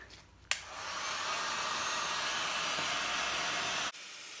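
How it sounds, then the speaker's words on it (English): A heat gun switches on with a click and blows a steady, loud airy roar over an acrylic paint pour for about three seconds, then cuts off abruptly. "So time to use my heat gun."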